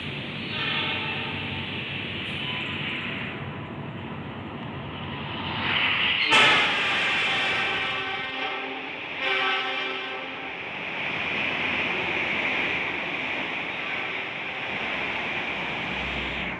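An Indonesian passenger train, the Sembrani, rushes past a waiting train at Brebes station with a loud, sustained roar and rhythmic clattering of wheels, swelling and fading over several seconds.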